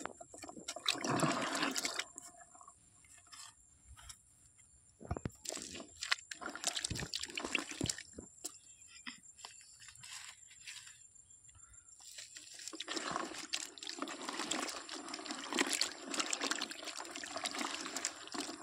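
Water being poured and mixed into fermented jaggery organic fertiliser, with intermittent sloshing, trickling and splashing bursts nearby, broken by quieter pauses.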